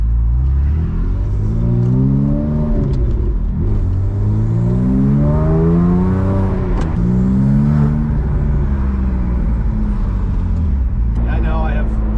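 A rebuilt, road-legal Porsche 997 Turbo race car drives along with a loud, steady engine drone, rising and falling through gear changes as it accelerates, close and continuous throughout the stretch.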